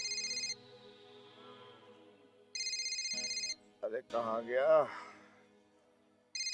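A telephone rings in short repeated bursts of bright electronic trills, with pauses between. A voice speaks briefly in one gap before the ringing resumes.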